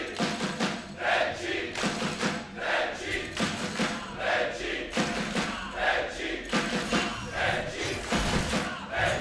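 A crowd at an esports grand final chanting and cheering for AS Trenčín, rhythmic waves of voices rising and falling in steady pulses, moderately loud in a large hall.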